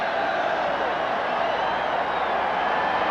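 A large baseball stadium crowd at the 1986 ALCS Game 6 sends up a steady, distant roar of cheering and whooping as fans do the wave, a broad wash of noise with no pauses.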